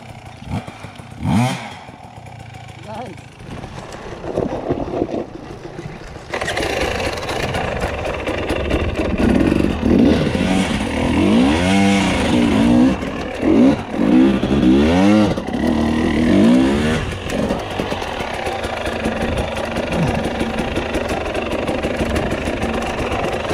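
On a woods trail, a motorcycle engine idles and revs in repeated rising and falling surges as the rider works the clutch, close and loud, with a brief blip before the sustained running begins.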